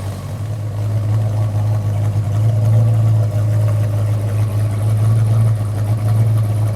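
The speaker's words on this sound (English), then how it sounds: "let's fire this 351 Cleveland up and then we'll go listen to the exhaust" A 351 Cleveland V8 in a 1967 Mustang Fastback idles close by through a MagnaFlow exhaust with a cross pipe: a deep, steady rumble with a lopsided low throb, holding constant without revving for several seconds.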